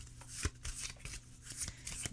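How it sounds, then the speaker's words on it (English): A deck of tarot cards is shuffled by hand, giving a run of soft riffling and papery taps with a few sharper slaps, close and alone with no talking. "I'm going to shuffle them again."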